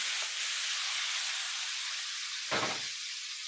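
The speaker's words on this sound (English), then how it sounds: "This is going to get a little smoky. So we're going to sear it." Beef searing in a hot iron skillet gives a steady, close hiss throughout, with a brief louder burst of sizzle partway through.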